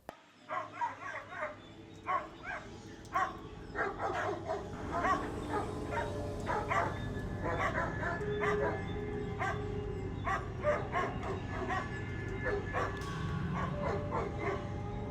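Dogs kept in a cage at a house in Kotagiri, Nilgiris district, bark in rapid, repeated bursts, mixed with yips and whimpers, while a leopard tries to hunt them; the barking is agitated and continuous throughout.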